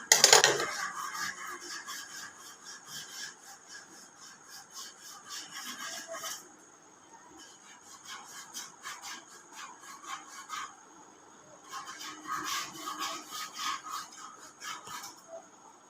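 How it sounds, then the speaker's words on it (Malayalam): Scissors cutting fabric for an umbrella-cut puff sleeve on a churidar: close, dry snipping and rustling strokes in several bursts, separated by a quieter pause. "ഇവിടെ കൈയിൻ്റെ സെൻറ്റർ ഇങ്ങനെ കട്ട് ചെയ്ത് കൊടുക്കും"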